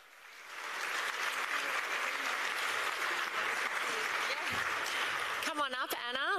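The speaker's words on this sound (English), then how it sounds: "Let's keep the applause going for Anna as she makes her way up." Audience applause at the NT Sports Awards ceremony, swelling in after a quiet start into sustained, dense clapping from a large crowd, with a voice speaking over it near the end.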